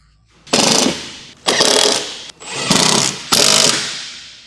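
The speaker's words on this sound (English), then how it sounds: "Use a large 13mm deep socket with an impact wrench." Impact wrench with a 13mm deep socket tightening side step bracket bolts on a 2010-2016 Land Rover Discovery 4, four loud rattling hammering bursts of about a second each with brief pauses between them.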